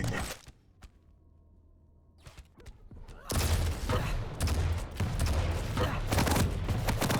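Rocket launcher fire in a Quake-style arena duel game: after a hushed stretch with a few soft clicks, a dense run of loud explosive blasts and impacts bursts in and keeps going.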